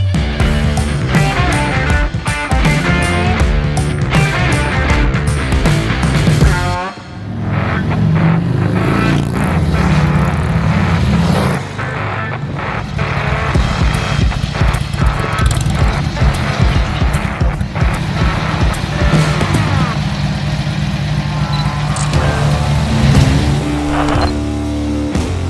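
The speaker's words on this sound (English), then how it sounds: "this is a Harley-Davidson XLCR Cafe Racer" Harley-Davidson XLCR Cafe Racer motorcycle engine running loud and steady, with a brief dip after the first few seconds and then a sustained rumble; no talking.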